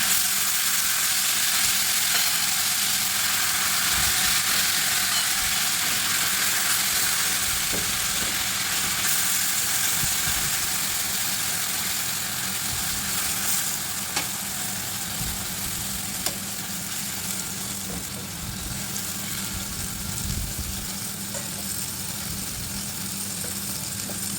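Overnight-marinated beef frying in a hot pan, a continuous loud sizzle and hiss with occasional stirring scrapes, steady for the whole stretch without voices.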